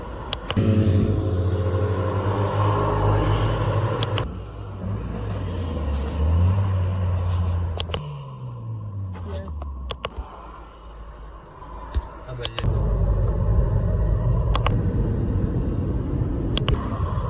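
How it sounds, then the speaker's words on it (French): A Porsche Spider RS supercar fitted with a Capristo exhaust revs loudly nearby, its deep engine roar rising and falling through several throttle blips before settling back into a strong rumble. "Échappement Capristo!"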